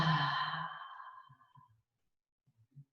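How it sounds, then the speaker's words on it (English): A single powerful exhale during a yoga breathing exercise starts loud and close, then trails off over about a second, followed by a few faint soft sounds in near silence. "Breathe out powerfully."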